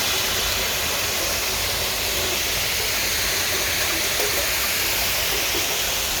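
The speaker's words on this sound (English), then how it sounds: "Then you can see the waterfall." Steady, loud rush of a waterfall heard near a private outdoor bath in Japan, a dense unbroken roar of falling water filling the whole stretch with no voices.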